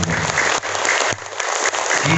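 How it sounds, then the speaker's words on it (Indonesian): A short burst of steady clapping from a group, dense and even, lasting a couple of seconds. "Tepuk tangan yang meriah."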